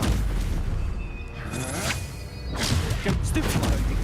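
Stupefy spell impacts in Hogwarts Legacy: loud whooshing bursts and booming thumps from combat magic, several hits in quick succession over game music and effects.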